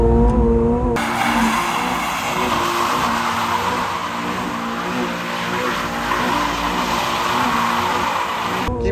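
A sports car launches with tires skidding and squealing, a loud sustained screech over the engine's revving that carries on for several seconds.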